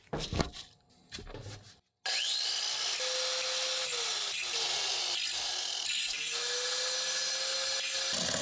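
Split pin tip shaved on a power tool to sharpen it: a few short grinding touches, then a loud, continuous abrasive whine with slight pitch dips as the pin is pressed against it.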